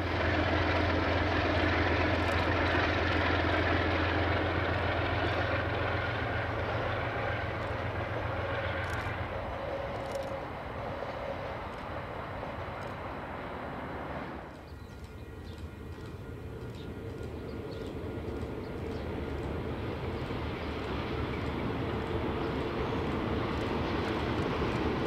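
Train 937 crossing the Otago Harbour causeway in New Zealand, a broad, steady rumble with a low engine drone that eases off midway, then a continuing softer rolling noise heard from a distance.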